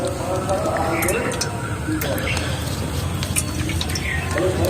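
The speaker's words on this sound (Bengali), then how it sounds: "এবার এটা আমি ছেঁকে নেবো একটা বাটিতে এটা ছেঁকে নেবো রসটা আর একটু চেপে নেবো চামচ দিয়ে" Juice from lemon peel strains into a bowl while a spoon presses the pulp. It makes an uneven patter of dripping and trickling liquid under a voice talking close by.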